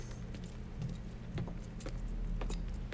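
Keys jangle in Mafia 3, a bright metallic rattle in several short bursts over a steady low car engine hum, fairly quiet and close.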